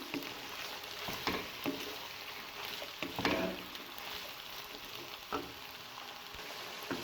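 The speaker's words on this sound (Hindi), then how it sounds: "बस 2 मिनट के लिए इनको फ्राई करना है" Chicken and capsicum frying for macaroni give a low, steady sizzle with scattered crackles and light pops near the pan, fairly quiet and continuous with no voice.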